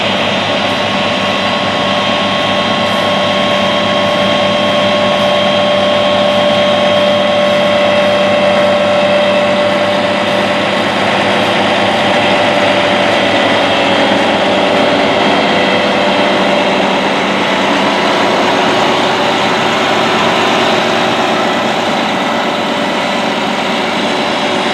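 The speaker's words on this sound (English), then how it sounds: "These John Deere tractors are 620 horsepower." A John Deere 9620R tractor, 620 horsepower and fitted with triple tires, runs steadily with a loud, constant engine drone and no break or voices over it.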